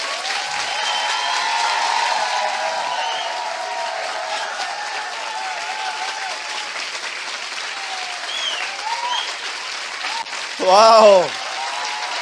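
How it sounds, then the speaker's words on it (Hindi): A church congregation bursts into loud, dense applause, a sustained wash of clapping from many hands, with a preacher's voice speaking over it and a brief exclamation near the end. "क्या हम अपने महान परमेश्वर के लिए एक जोरदार ताली बजा"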